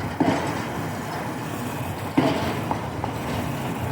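An underground subway train running about 80 feet below ground, a steady loud rumble with faint clicks and a couple of sharper knocks, no voices.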